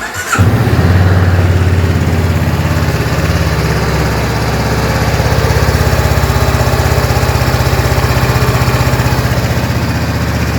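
A 2020 Honda CB500X motorcycle starts with a quick cranking burst and then settles into a steady, loud, rapidly pulsing idle that runs on close by, with no one talking.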